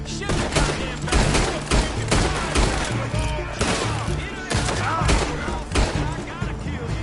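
Rapid bursts of gunfire from Red Dead Redemption 2 crack in a loud, close, irregular fusillade of overlapping shots, with game characters shouting in between.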